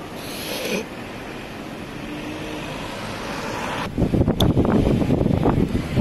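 Wind blows through an outdoor street in Berlin, a broad rushing noise that builds into heavier low, buffeting gusts against the microphone toward the end, with no talk.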